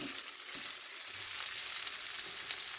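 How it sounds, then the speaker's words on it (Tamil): Egg fried rice is stirred in a hot pan, making a continuous soft sizzle with faint scraping strokes, fairly quiet and close, with no voices. "இனி நல்ல வடிவாக கிளறி விடுவோம்."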